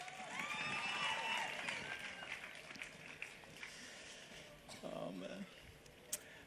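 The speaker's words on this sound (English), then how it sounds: "a round of applause for Seretse and the natives" Audience applause at the 42nd Botswana Sport Awards ceremony, a dense wash of clapping and crowd noise that fades gradually, with some tonal sound mixed in and a few sharper claps near the end.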